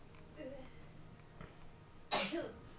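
A single sharp sneeze bursts out near the end, loud and close, following a quieter stretch of murmured talk and small vocal sounds during co-op play of Total War: Warhammer 3.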